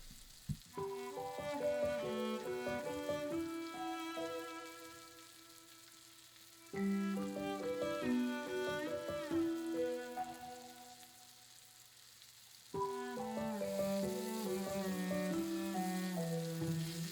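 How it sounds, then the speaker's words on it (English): Banana pieces coated in a cinnamon sugar mixture fry and sizzle in a pan as they are tossed around, a soft crackle heard under prominent background music. "I'm going to toss them around in the pan for around 30 to 45 seconds"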